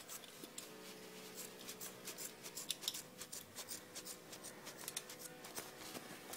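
Scissors snipping through denim while shortening a pair of jeans at home, with a dull blade giving a steady run of crisp, scratchy cuts close up and no talk.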